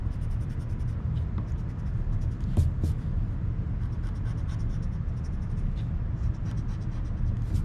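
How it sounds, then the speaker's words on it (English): A pencil draws a line along a ruler, giving a steady, close scratchy scraping that runs for several seconds with a few brief louder strokes and no talking. "I could just reach over here and draw a line there"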